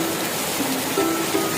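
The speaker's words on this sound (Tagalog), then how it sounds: "Ngayong araw nga muling bumuhos ang ulan dito sa Israel." Steady rain pours down in Israel, a dense, even hiss of falling water with no breaks, fairly loud and close, with no voices.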